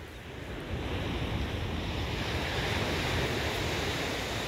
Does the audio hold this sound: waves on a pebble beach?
yes